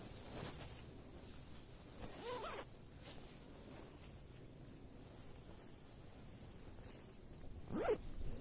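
A sleeping bag's zipper is pulled closed in a quiet outdoor setting, with short zipping strokes, a longer pull and a final quick zip near the end over faint wind noise.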